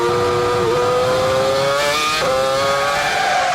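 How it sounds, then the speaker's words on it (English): Formula 1 race cars from the 2007 season scream past at full throttle, a loud, continuous, high-pitched engine wail. The pitch shifts as gears change and cars pass close by. "Hamilton displaces the BMW of Heidfeld for 6th."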